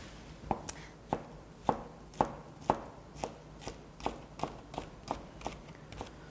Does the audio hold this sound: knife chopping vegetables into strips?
yes